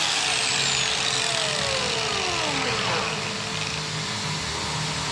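Worn 80 grit flap disc on an angle grinder sanding steel brackets from a 2014 Toyota Hilux N70, a steady loud whining grind with shifting pitch sweeps that runs continuously throughout.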